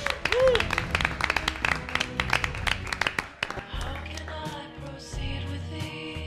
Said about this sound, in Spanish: Un aplauso para David Bizarro